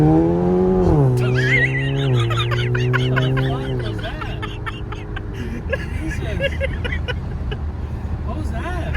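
A modded Alfa Romeo Giulia with its exhaust opened accelerates hard as its tires lose traction, a loud rising engine note with squealing tires up close that fades into road noise, while people talk inside the car.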